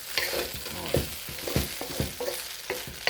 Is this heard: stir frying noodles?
yes